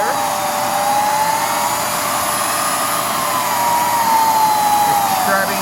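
A Hoover Dual Power Pro carpet cleaner suctions carpet with a loud, steady motor whine and airflow roar, a rising-and-falling tonal hum running continuously throughout, with no talking.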